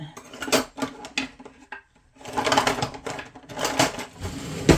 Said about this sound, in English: Let's just stir some of this up.